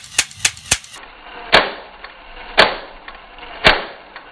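Toy Lego tank gear mechanism driven by a battery-box motor, giving three quick clicks followed by three louder, evenly spaced snaps about a second apart, close and alone with no talk.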